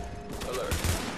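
Overlapping bursts of gunfire in the shooter The Division, a loud, sustained volley from several directions mixed with game effects, running for just over a second.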